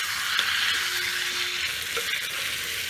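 Pumpkin curry sizzles in a pan just after sugar goes in, a continuous hiss of frying with faint stirring scrapes, close and moderately loud, no one talking.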